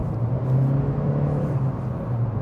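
An Acura Integra with a CVT accelerating on a road, heard as a steady low engine drone and rumble from inside the car, fairly loud with no clear rise in pitch.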